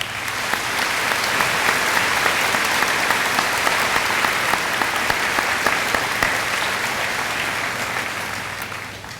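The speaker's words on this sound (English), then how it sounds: "Please join me in a round of applause." Audience applause at a high school graduation ceremony, a dense, sustained wash of clapping from a large crowd in a big hall that fades slightly at the end.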